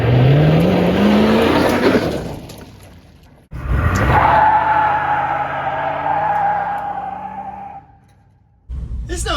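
1979 Dodge D100 pickup with a tired 318 V8 revving hard. The engine note climbs twice in loud bursts, drops away between them, then cuts off briefly before starting up again.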